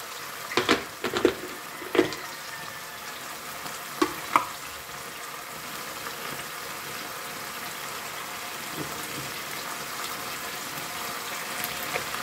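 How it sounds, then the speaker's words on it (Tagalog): Salted canned mega sardines frying in a pan, a close, steady sizzle throughout, with a few sharp clinks of stirring near the start and no one speaking. "naluluto na ang ating mega sardines"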